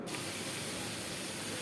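Pumpkin, eggplant and drumstick vegetables in a pan giving off a dense, steady hiss of steam and frying, loud and continuous for under two seconds, with no distinct stirring strokes standing out.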